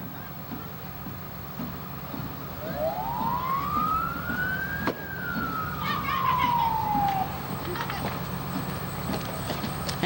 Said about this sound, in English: that's the ambulance also supporting this event.